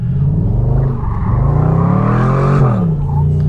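Chevrolet Camaro convertible launching hard from a standstill, its loud engine rising in pitch as it revs and accelerates, then easing off briefly before pulling again, close and continuous throughout.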